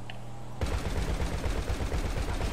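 Rapid Uzi fire in a video game, a sustained burst of fast automatic shots erupting abruptly after a quiet moment and continuing loud and close to the end.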